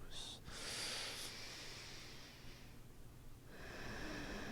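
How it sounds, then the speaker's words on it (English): A long, deep breath drawn in through the nose during a yoga practice, a soft airy hiss that swells and fades and is quickly followed by another breath, close and quiet with no speech. "we'll start off our practice with a nice inhale in through the nose"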